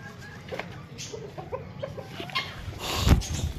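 A black hen feeding her chick clucks softly among other backyard birds. Short, faint clucks come in an uneven rhythm, with a louder rustle near the end.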